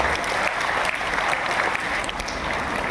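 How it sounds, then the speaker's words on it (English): Audience at a silver jubilee celebration breaks into a big round of applause, thick continuous clapping at a steady level from start to finish. "Let us give one another a big round of applause for your efforts."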